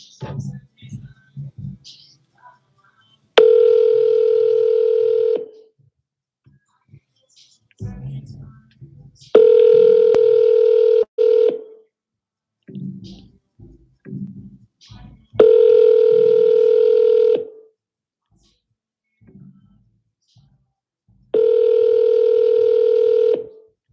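A phone call goes out to a for-sale-by-owner seller, four long steady ringback tones spaced evenly apart, with brief bursts of speech and dialing clicks in the gaps between rings.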